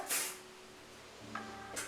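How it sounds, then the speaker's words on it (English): Hairspray misted lightly over finished curls, two short soft hissing bursts, one at the start and another near the end, quiet and close with a faint hum between. "finish off with the same spray, just a really light layer"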